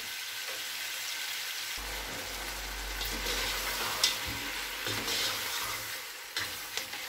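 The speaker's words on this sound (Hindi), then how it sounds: "चाप को अच्छी तरीके से भून लेंगे जब तक इसका कलर चेंज नहीं हो जाता।" Mutton chops browning in a pan for a gravy-style dish, giving a steady close sizzle that thickens after the first couple of seconds and carries a few scrapes and clinks from stirring.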